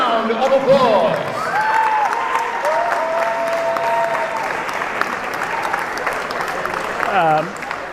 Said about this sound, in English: Can we give President Skolaris a big round of applause?